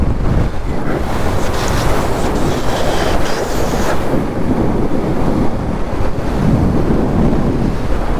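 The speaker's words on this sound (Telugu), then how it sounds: "ఎంత ఘోరంగా కొడుతున్నాయి వేవ్స్" Ocean waves crashing on the shore at Dhanushkodi, a loud continuous roar of surf mixed with strong wind buffeting the microphone, no voices.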